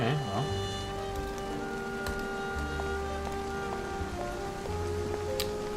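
Steady rain patters on surfaces in the detective video game Face Noir, a continuous wet hiss with faint sustained background music beneath it.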